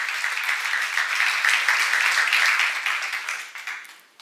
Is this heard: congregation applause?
yes